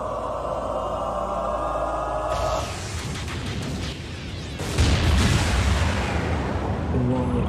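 A deep, booming explosion in a Transformers Prime animated episode, with a sudden loud blast that rumbles on and swells again as other effects play beneath it.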